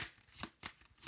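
Tarot cards being shuffled by hand, quick papery riffles and soft slaps in two or three bursts, close and quiet with no talk.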